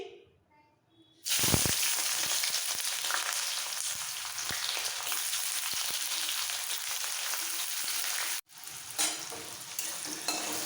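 Chopped onion hits hot oil with cumin seeds, bursting into a loud, dense sizzle after a quiet start, holding steady before a brief cut and then resuming with stirring scrapes in the pan.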